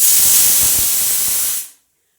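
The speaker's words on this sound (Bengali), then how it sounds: "তোমরা শুনতে পাচ্ছ প্রেশার কুকারে সিটি" A pressure cooker boiling potatoes vents in a loud, steady steam hiss that cuts off abruptly, leaving silence.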